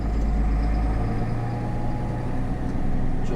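Warmed-up turbocharged tractor engine running steadily, a deep low rumble with a faint higher turbo whine over it, heard close and alone.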